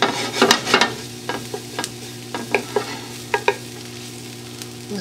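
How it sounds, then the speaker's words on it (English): Garlic frying in a mix of olive and vegetable oil, a soft steady sizzle broken by a series of clicking scrapes and taps as it is stirred in the pan. "Now that garlic is starting to cook up."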